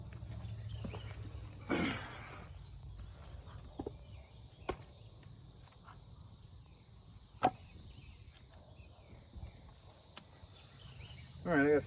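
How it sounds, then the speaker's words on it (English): Cicadas buzz in a steady, thin drone outdoors while firewood is split, broken by a few sharp knocks and thuds, and a faint bird chirp can be heard. "let the birds and the cicadas sing."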